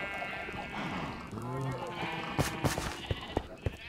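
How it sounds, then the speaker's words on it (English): Sheep of several colours bleat on a video game farm, a few wavering bleats mixed under steady background music and talk, followed by a series of short clicking taps. "Got multiple different colors of sheep here."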